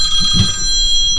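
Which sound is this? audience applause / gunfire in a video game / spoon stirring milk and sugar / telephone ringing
telephone ringing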